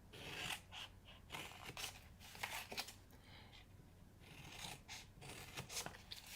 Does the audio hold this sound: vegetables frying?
no